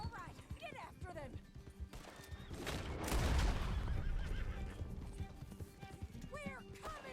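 A horse in the Red Dead Redemption video game whinnies loudly and gallops with steady clip-clop hoofbeats, over a busy bed of game sounds.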